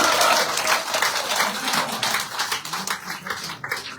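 Applause from a crowd at a political gathering in Poonch welcoming a leader joining the BJP, dense clapping filling the whole stretch and thinning slightly toward the end.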